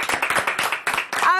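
Several people clap together for a young boy in a village home, a short burst of brisk, close applause with a voice sounding briefly near the end.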